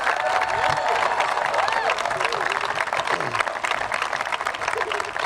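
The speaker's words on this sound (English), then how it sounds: "let's give a big round of applause for World Series champion Alex Bregman" An audience at a baseball complex dedication in Albuquerque applauds and cheers for World Series champion Alex Bregman, a dense, steady wash of clapping with scattered voices throughout.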